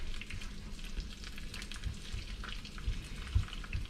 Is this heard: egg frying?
yes